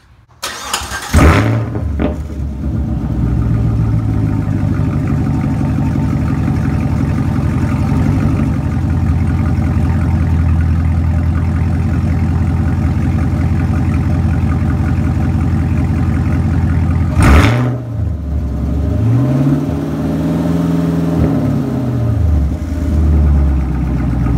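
A Chevrolet Camaro SS 1LE with an MBRP axleback exhaust starts with a loud crank, idles in a deep, steady rumble, then blips the throttle in a sharp rev that rises and falls, with a few quieter swells after.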